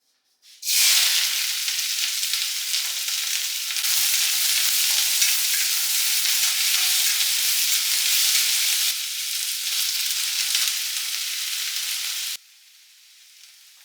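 Sautéing in hot coconut oil in a clay pot, a loud bright sizzle that starts abruptly, holds steady with slight surges, then cuts off to quiet.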